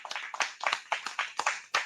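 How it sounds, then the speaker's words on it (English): Clapping from an audience, a short burst of quick, fairly close claps in an uneven rhythm. "Please give him a round of applause."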